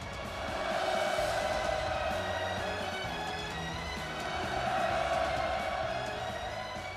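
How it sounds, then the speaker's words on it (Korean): Large crowd at a factory completion ceremony in Kangdong County, North Korea, roaring hurrah cheers in a sustained distant swell that rises and falls in waves across the open venue. "김정은 동지께서 준공식장에 도착하시자 폭풍 같은 만세 환호성이 터져"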